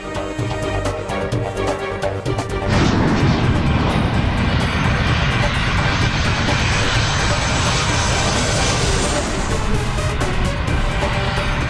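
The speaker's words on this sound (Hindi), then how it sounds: "अभी तो पहिए भी नहीं खुले, फिर ये विमान नीचे क्यों जा रहा है? जरूर विमान का इंजन समाप्त होने वाला है।" A fixed-wing airplane in a TV drama descends with its engine failing, a loud continuous engine roar that swells abruptly and holds as a dense, close rumble.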